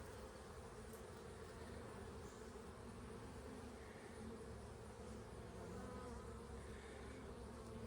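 Honey bees buzz around an open hive during an inspection, some carrying pollen: a faint, steady, continuous hum with no voices.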